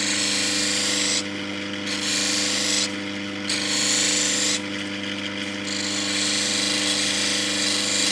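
An Ethiopian opal held against a spinning grinding wheel gives a steady close-up grinding whir with a hum beneath, and the abrasive rasp fades and returns in three brief passes.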